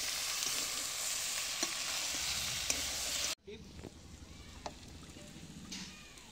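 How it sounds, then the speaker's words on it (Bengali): Chicken curry of desi chicken stirred in a cooking pot, a soft sizzle with faint scraping and clinks of the spoon, quieter after a brief break, low and close. "এরপর ভালো করে নেড়ে নেবো যাতে নিচে লেগে না যায়"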